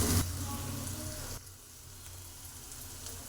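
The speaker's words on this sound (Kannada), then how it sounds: "ಈರುಳ್ಳಿ ಬೆಳ್ಳುಳ್ಳಿ ಕರಿಬೇವು ಮತ್ತು ಟೊಮೆಟೊ ಹಾಕಿ ಫ್ರೈ ಮಾಡಿದ್ಮೇಲೆ" Onion, garlic, curry leaves and tomato frying in a pan, a steady close sizzle that is louder at first and then settles to a softer, even crackle.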